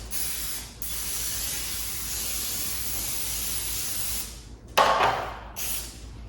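Cooking spray hisses onto a cookie sheet in a long steady burst, followed by two shorter sharp spritzes, close and fairly loud with no talking.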